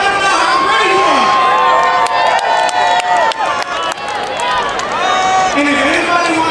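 A loud crowd cheers and shouts at a sake event, a dense, continuous roar of voices with whoops that holds steady for several seconds close by.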